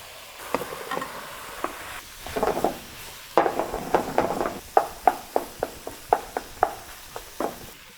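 Rice goes into a hot frying pan for Indonesian nasi goreng, with a light sizzle and a run of sharp spatula scrapes and clacks against the pan that quicken in the second half.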